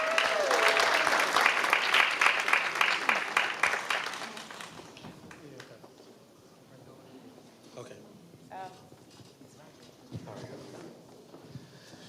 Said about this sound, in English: Round of applause for the last winners here